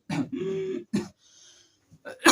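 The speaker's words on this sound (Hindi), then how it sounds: "ये खांसी क्यों आती है?" Throaty coughs and throat clearing during a breathing exercise, a few short rasping bursts separated by brief pauses and soft breath sounds.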